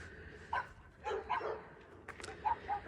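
A dog barks in short yips a few times at moderate distance outdoors on a residential street, the barks spaced irregularly over quiet background noise.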